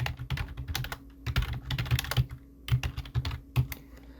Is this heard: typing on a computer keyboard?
yes